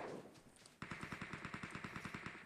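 Automatic gunfire in PUBG Mobile, a rapid steady burst of about fifteen evenly spaced shots, clear and close, following a quieter stretch.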